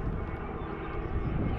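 An EasyJet passenger airplane passes overhead above a campsite in Trogir, Croatia, a steady broad jet roar that stays loud and even throughout.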